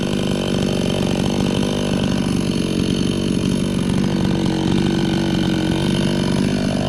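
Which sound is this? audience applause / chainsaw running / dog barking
chainsaw running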